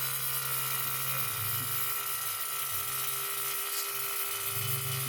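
A small air compressor fills its tank on an R34 Nissan Skyline drift car being fitted with air cups, a steady droning motor hum with a faint rhythmic pulsing throughout, close and unbroken.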